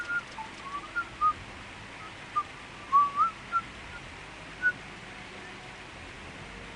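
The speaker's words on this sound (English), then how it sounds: "The whistle." Short, thin whistles sound in Castlevania: Symphony of the Night, a series of brief high chirps spaced irregularly over a faint hiss of game ambience.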